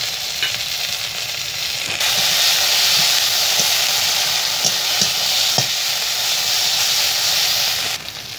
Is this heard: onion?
yes